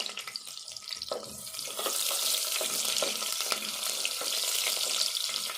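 Onions fry in a pan for a cowpea and tomato curry, giving a close, steady sizzle and hiss that grows louder partway through, with scattered clinks and stirring underneath.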